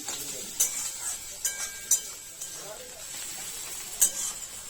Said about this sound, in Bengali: কড়াইতে পেঁয়াজ ভাজা হচ্ছে।